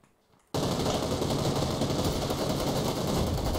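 Rapid, loud gunfire from an M24 rifle in PUBG Lite on PC, bursting in abruptly after a brief hush and continuing as a dense, sustained roar of shots.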